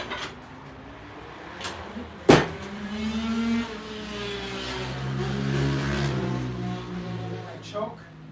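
A carbureted engine under repair, with the choke on, cranks after a sharp click and catches into a low, uneven idle that holds and rises slightly, ending with a rattling burst.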